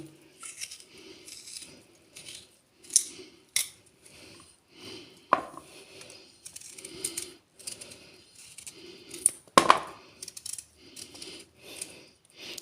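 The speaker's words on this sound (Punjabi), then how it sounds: "ਤੇ ਇਸ ਨੂੰ ਆਪਾਂ ਗੋਲ ਪੀਸਿਸ ਦੇ ਵਿੱਚ ਕੱਟਾਂਗੇ" A knife slices kohlrabi into round pieces on a board, giving a series of sharp, close cutting knocks in an uneven rhythm with quiet gaps between, and no talk.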